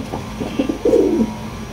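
A few soft throaty coos from Giribaz pigeons sound close by, with a short rolling coo near the middle that rises over a quiet background.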